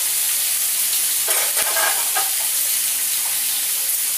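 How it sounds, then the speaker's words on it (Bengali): Green chilies hit hot oil with a loud, continuous sizzle and a burst of crackling pops in the middle, close and with no talking. "তেলে কাঁচা লঙ্কা দিলে খুব ফাটে।"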